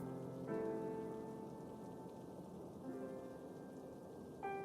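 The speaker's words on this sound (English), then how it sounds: "It's raining." Steady rain pours down in a game setting with dark, black-looking rain, a constant even hiss with faint tonal chimes drifting over it, with no voices.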